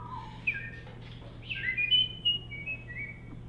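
A person whistles at a whistling convention, a series of short high melodic phrases and sliding notes over a low steady hum in a quiet room.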